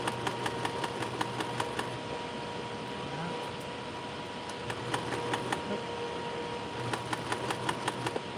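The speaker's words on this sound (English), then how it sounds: "now we're going to sew it" A sewing machine stitches a denim jacket in bursts of rapid, evenly spaced needle clicks over a steady motor hum, pausing between runs; close and fairly loud, with no talking.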